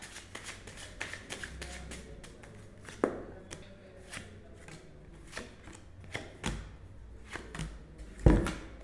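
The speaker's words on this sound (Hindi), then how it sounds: "अब फ्यूचर में हमें क्या करने वाला है, इसके लिए मैं कुछ कार्ड्स निकाल लेती हूँ।" Tarot cards being shuffled by hand at close range, a steady run of crisp riffling and tapping strokes with occasional sharper thumps, no talking.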